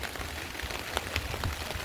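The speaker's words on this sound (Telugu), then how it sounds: "ఇది మంచి వర్షం పడుతుంది" Heavy rain pours on Amritapani banana trees as wind stirs the leaves, a dense, steady hiss with scattered nearby drops tapping through it.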